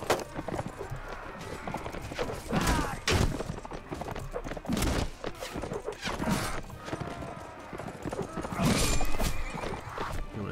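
Horse hooves clatter and thud amid the clash of a busy cavalry fight in the video game Mount & Blade: Warband, with whinnies and scattered impacts forming a dense, chaotic din.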